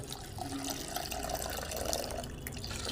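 Water trickles steadily into a bowl of wheat flour batter mixed with egg, a soft continuous liquid pour heard close up with no voices.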